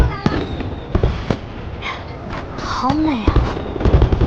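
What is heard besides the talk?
fireworks bursting in a movie scene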